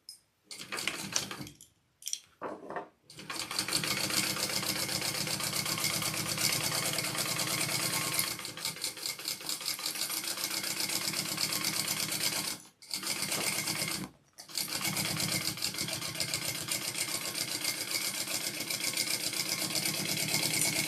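A sewing machine bastes two layers of backpack fabric together, running in long continuous bursts of rapid stitching with a few short pauses between them and no talking.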